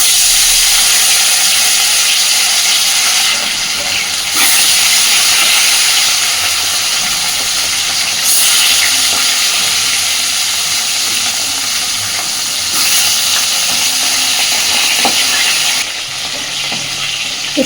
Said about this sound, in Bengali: তো মাছটা এবার ভেজে নেব।